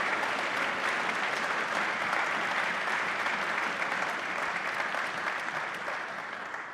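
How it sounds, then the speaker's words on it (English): A school symphony band audience applauds an ensemble manager, steady sustained clapping from a sizable crowd filling the whole stretch, gradually easing toward the end. "Let's give Terry a round of applause, students, for all that hard work."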